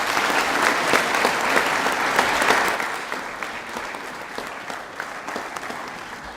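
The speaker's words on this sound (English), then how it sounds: "Round of applause for these two." Loud, steady applause from a school prizegiving audience, dense clapping that holds strong for a few seconds and then gradually thins and softens, with no speech over it.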